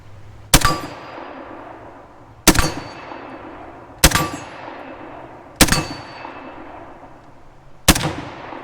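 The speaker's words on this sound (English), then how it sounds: "Let me fire a couple more through it" Five sharp, loud gunshots from a Saiga hunting carbine, evenly spaced about one and a half seconds apart, each with a ringing decay.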